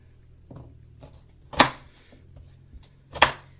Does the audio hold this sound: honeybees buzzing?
no